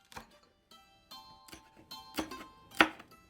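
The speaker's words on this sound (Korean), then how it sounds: "파와 마늘, 생강도 썬다." A knife chops green onion, garlic and ginger on a board for mapo tofu, giving several separate close, crisp knocks at an irregular rhythm with quiet gaps between them.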